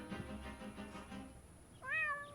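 A cartoon cat meows once, a clear rising-falling cry near the end, following a few soft rhythmic thumps in the Deponia point-and-click adventure game.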